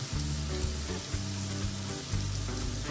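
Cumin seeds hit hot oil with a loud, steady sizzle and frying hiss, close up and continuous, with no talk over it.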